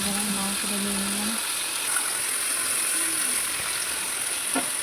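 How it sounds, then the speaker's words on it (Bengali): Chicken meat hitting hot oil in a wok fries with a loud, steady sizzle that stays dense and even throughout, while a low voice-like hum sounds briefly near the start. "গরম হয়ে গেছে, এবার আমি মাংসটা দিয়ে নিলাম।"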